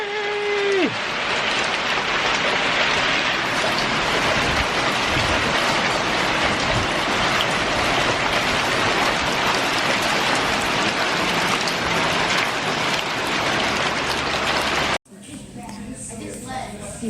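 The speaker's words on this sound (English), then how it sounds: "look at this hail out here. It is crazy!" Hail pours down outside in a dense, loud, steady hiss of impacts for about fifteen seconds before cutting off abruptly to quieter background.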